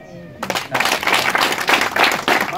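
An audience at a Rwandan ceremony claps after a humorous speech, a burst of dense, close applause that swells and pulses for a couple of seconds following a brief vocal note.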